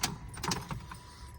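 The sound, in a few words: Honda car keys jangling while programming keys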